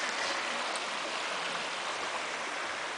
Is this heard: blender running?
no